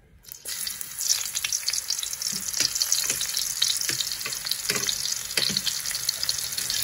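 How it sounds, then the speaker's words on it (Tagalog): Onions sizzle and fry in a pan over a butane burner, a steady close crackling hiss with occasional stirring scrapes running throughout without any talk. "ilagay na agad natin ang ating mga igigisa. Which is unahin natin ang sibuyas."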